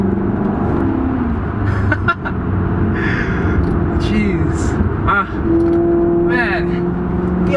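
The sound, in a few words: Maserati GT engine being driven hard on mountain road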